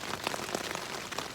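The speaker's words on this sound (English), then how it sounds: "heavy, heavy rain" Heavy rain patters steadily on an REI Quarter Dome SL1 tent during a cold, windy day, a dense close hiss of drops with no voices.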